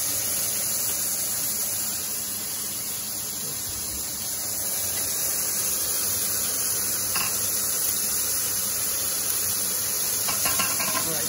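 Venison backstrap sears in a hot pan, giving a continuous, even hiss of sizzling that holds steady throughout, with a couple of faint clicks and no speech.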